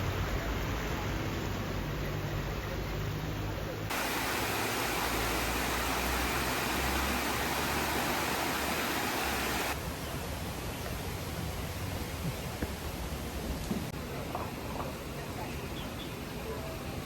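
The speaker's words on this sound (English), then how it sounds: "Looks like we found a hot springs river, creek." Hot spring creek in Taipei flowing steadily, a broad continuous rush of water close by that holds level throughout, with a faint high whine at the start.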